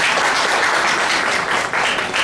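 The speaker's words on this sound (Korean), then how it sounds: "박수로 맞이해 주시기 바랍니다." Dense applause from a church audience welcoming a pastor to the stage, steady and fairly loud throughout with no speech over it.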